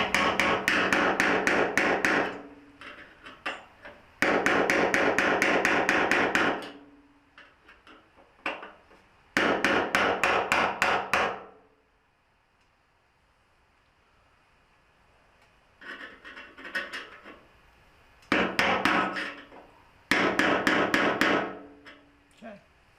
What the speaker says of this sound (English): So hammer it till it's in place, good and tight.